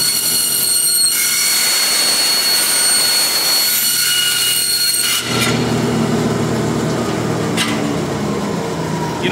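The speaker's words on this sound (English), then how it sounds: "this bandsaw is going to be loud" A bandsaw slices through an aircraft sheet metal spar in a shop, a loud, steady, harsh screeching roar that shifts in pitch partway through the cut and runs continuously without pause.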